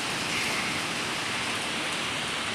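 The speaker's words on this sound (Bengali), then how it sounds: "খুব জোর বৃষ্টি হচ্ছে।" Heavy rain falls as a dense, steady hiss with an even loudness throughout, with no voices and no distinct drops standing out.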